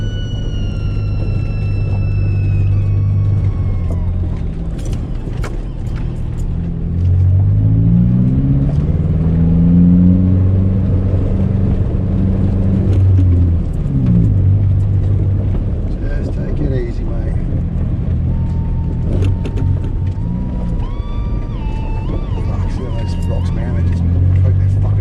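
A Subaru XV engine labours loudly as the car crawls uphill over rocks on an Australian outback trail, a rough steady drone with revs rising and falling, while a person talks over it.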